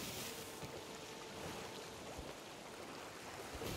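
Water and waves wash steadily around a boat in the pirate video game Sea of Thieves, a soft, broadband rushing surf with gusty wind noise, faint and continuous with no voices.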